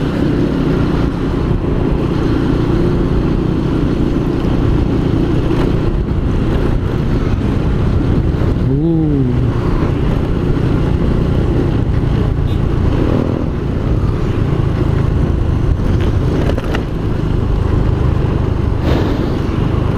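A newly serviced motorcycle engine runs steadily on the road, with a brief rising rev near the middle over a constant rumble and road noise.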